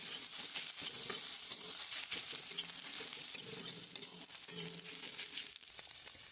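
Spiced soybean fried rice being stirred in a pan with salt, turmeric and chili powder, a close, steady sizzle under busy scraping and rustling strokes of the spatula, with no talking.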